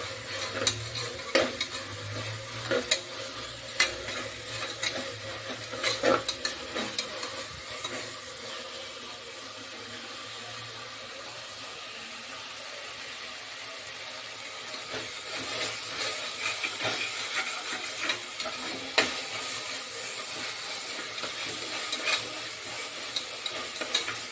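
Ginger garlic paste sizzling in a pan at home, a continuous close hiss with frequent light clicks and scrapes of a spoon stirring, quieter in the middle stretch and busier toward the end, with no talking.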